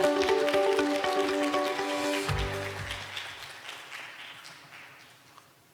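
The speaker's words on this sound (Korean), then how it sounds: "모두 큰 박수로 맞이해 주시기 바랍니다" Applause from the audience at a science fiction awards ceremony as the host welcomes a museum director to the stage, broad steady clapping under a fading musical chord that tapers off toward the end.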